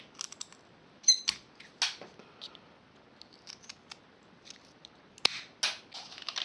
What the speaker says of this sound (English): Let's get a pair of scissors.